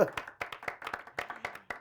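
A small group claps for a singer at a music talk show: a short run of distinct, close hand claps in uneven rhythm, with a brief voice at the start.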